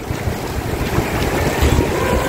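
Large waves roll across the open water of Nikli haor, a wide freshwater wetland, heard as a loud, continuous wash of surging water and boat noise with heavy wind buffeting the microphone.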